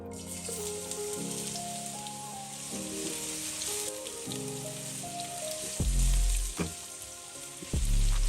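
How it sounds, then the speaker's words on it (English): Onions sauté in olive oil as a base for bone broth, a soft steady sizzle running beneath louder background music with low thumping notes. "putting the olive oil, sauteing the onions"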